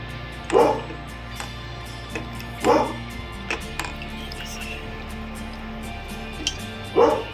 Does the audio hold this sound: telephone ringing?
no